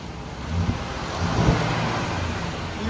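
A 2015 Jeep Grand Cherokee Summit Edition with a 5.7L HEMI V8 and stock exhaust revs in a few soft, muted swells over a steady broadband hum, quiet and restrained.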